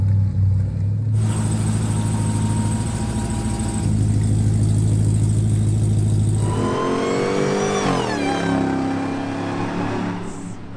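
A Hemi-swapped Jeep Gladiator engine runs loud and close, rumbling at idle, then revving hard and pulling away with rising pitch through gear changes, steady and strong with no talking.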